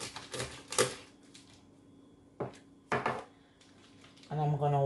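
A knife cuts the tail off a smoked herring on a board, giving a few sharp, close knocks with quiet gaps between them, and a voice speaks briefly at the end.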